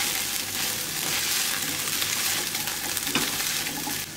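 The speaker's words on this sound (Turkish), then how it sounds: "Çok fazlasıyla dağıtmadan köfteyle nohut karıştırıyorum." Meatballs and chickpeas are stirred together in a hot pan, a dense, continuous sizzling hiss with faint scraping, close and steady for several seconds.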